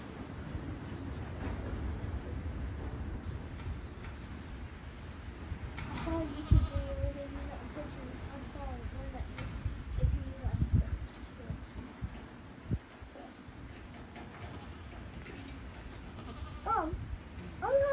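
Goats bleat faintly and intermittently during a goat birth on a farm, a few short cries scattered over low rustling and background noise.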